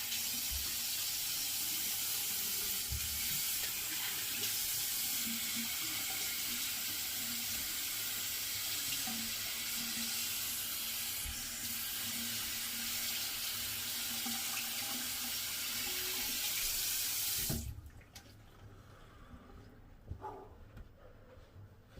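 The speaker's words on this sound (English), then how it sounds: "I'm just gonna do a little rinse off real quick" Tap water runs steadily into a bathroom sink during a quick rinse after shaving, a loud continuous broadband rush lasting about seventeen seconds before being shut off, leaving only faint room noise.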